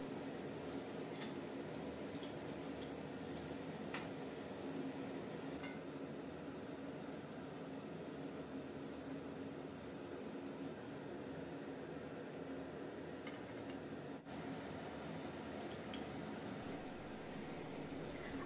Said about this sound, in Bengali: তবে এইভাবেই প্রত্যেকটা পকোড়া আমি এক এক করে ভেজে নেব।